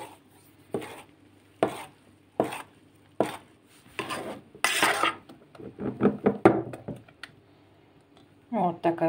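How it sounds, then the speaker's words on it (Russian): Rhythmic scraping and clacking of a utensil working through thick batter in a bowl, a series of regular strokes, then a voice speaking near the end. "Теперь хорошенько размешиваем."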